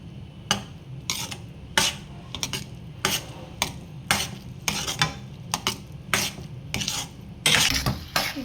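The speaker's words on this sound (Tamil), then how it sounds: "இப்போ நல்லா மிக்ஸ் பண்ணிக்கலாம்." A thick jaggery laddu mixture scraped and stirred around a pan in a steady series of sharp, close strokes roughly every half second, with light sizzling underneath.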